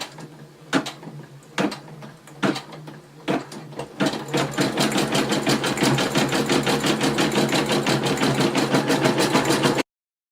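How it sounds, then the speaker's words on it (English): A Brother SE625 embroidery machine stitches a satin stitch, starting with a few separate thumps before settling into a steady, rapid mechanical clatter that runs loud and close until it stops abruptly. "you're going to run the next step, which is the satin stitch for the stomach and the side fin"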